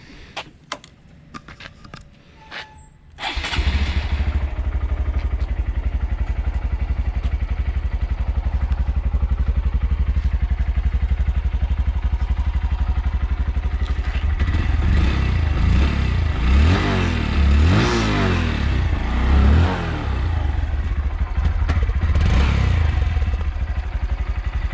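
A motorcycle engine is started after some light clicking, then idles low and loud while warming up on a camping trip in Carrabelle, Florida, with several throttle revs rising and falling midway through.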